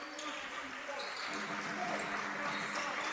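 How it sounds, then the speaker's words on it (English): Crowd applause at a Wales vs Ireland men's basketball game in Archers Arena, a steady moderate clapping from the stands under faint chatter. "So nice big round of applause."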